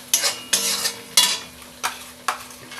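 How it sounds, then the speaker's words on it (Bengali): Ground cumin, coriander and chilli powder being sautéed in a pan for mutton curry, with five sharp spoon scrapes spaced across a low steady sizzle, close by. "মশলাটাকে ভালো করে কষিয়ে নিতে হবে"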